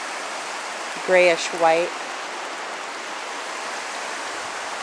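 A glacier-fed river running down from Mount Rainier along the Skookum Flats trail makes a steady, even rush of water throughout, with a person briefly talking over it.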